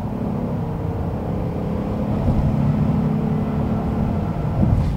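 A second-generation Honda Ridgeline's J-series V6 accelerates, a steady low engine drone rising slightly in loudness, heard from inside the cab with road noise and no talk.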